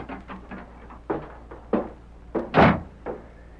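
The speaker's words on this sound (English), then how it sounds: "Red Murphy looked up in surprise at the sound of the door." The door of a frontier stage office bangs and thuds as a man strides inside, a series of close wooden knocks and clunks capped by one louder slam-like hit, with no voices.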